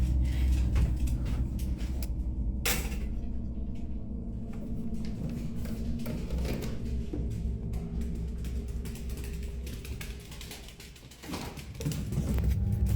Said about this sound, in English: the door starts shaking violently, like something is trying to come in